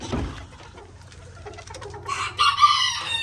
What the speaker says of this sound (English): over this blue rooster right here